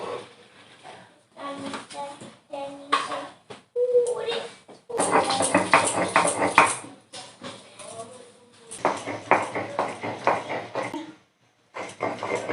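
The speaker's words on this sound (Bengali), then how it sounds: "আদা রসুন একসাথে বেটে নেব।" Ginger and garlic being ground together into paste by hand, rough scraping and grinding bursts that start and stop, with someone talking in between.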